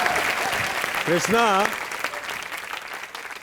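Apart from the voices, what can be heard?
TV show studio audience applause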